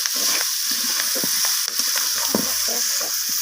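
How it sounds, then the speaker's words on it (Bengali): A spiced omelette curry masala with green peas and spring onion is stirred and sautéed in a pan after sugar goes in, giving a continuous loud sizzle with scraping strokes of the spoon close up and no talking. "চিনিটা দেওয়ার পর আমি আবারও কষিয়ে নিচ্ছি"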